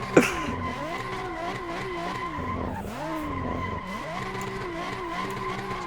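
Cars drifting in the Assetto Corsa racing game, among them a Nissan 370Z, S13 and S15, with steady tire squeal and engine whine running throughout and one sharp loud screech at the very start.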